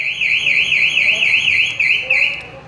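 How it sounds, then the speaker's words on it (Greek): A GPS alarm fitted to a Piaggio scooter sounds loud and steady, holding a warbling electronic siren tone that rises and falls in regular cycles, with a brief change in pitch near the end. "Το σύστημα αυτό εδώ πέρα που βλέπετε έχει και την κλασική λειτουργία του συναγερμού"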